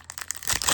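A trading card booster pack is ripped open up close in a quick burst of crinkly foil tearing that builds louder toward the end.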